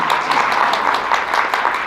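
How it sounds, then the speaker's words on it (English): An audience at a closing ceremony applauding, steady dense clapping that fills the room at a constant, loud level. "give them all another round of applause."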